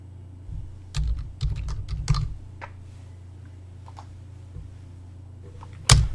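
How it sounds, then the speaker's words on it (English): Someone types on a computer keyboard while playing a typing game: quick irregular bursts of close keystrokes, then a quiet stretch with scattered taps and one sharp final click. "what it is, you start typing"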